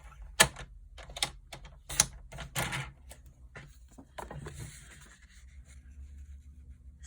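Scissors cut into card paper with a handful of crisp, quick snips close by, then a softer rustle as the card is handled, all fairly quiet with no talk.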